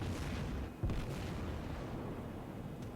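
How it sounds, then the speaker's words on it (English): Anti-aircraft guns firing aboard warships in the World of Warships naval combat game, a continuous dense rumble of distant booming bursts with a few sharper pops standing out. "Anti-aircraft guns opening up."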